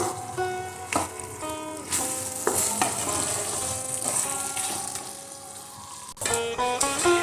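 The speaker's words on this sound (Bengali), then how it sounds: "এবার এখানে 4-5টা চেরা কাঁচা লঙ্কা দিয়ে একটু নেড়ে নামিয়ে নেব।" Slit green chilies stirred into pepper chicken frying in a pan on a low gas flame, giving a continuous sizzle with scraping stirs under steady background music.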